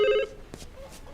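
A telephone rings in a crime thriller film, one short electronic ring burst that cuts off abruptly, followed by faint voices in a quiet room.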